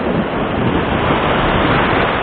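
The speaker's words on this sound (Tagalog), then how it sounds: "Masyado malalaki ang alon." Big ocean waves during a monsoon-season swell, a dense, continuous loud roar of surf and wind with no pauses or voices.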